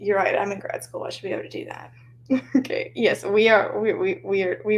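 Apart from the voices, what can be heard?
No distinct noise like a dog, phone or traffic.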